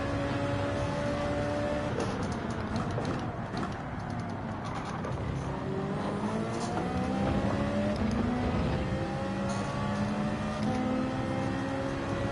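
GT3 race car engines in Gran Turismo 7 drone and rev continuously through a sprint race, with pitch rising and falling through gear changes while running in a BMW's slipstream, loud and steady throughout.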